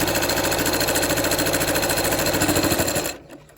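A sewing machine fitted with a walking foot stitches through layers of fabric, a loud, rapid mechanical chatter running steadily for about three seconds before stopping abruptly.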